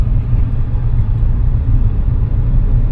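A manual car just shifted into second gear, its engine a steady loud low rumble and whir from inside the cabin as it drives on, with no talk over it.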